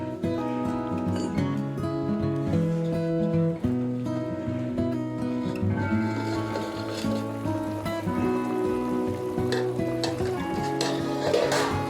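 Mutton with turmeric and salt cooking in a pot on a wood-fired stove, soft steady bubbling and stirring with occasional scrapes of a utensil against the pot, quiet and close.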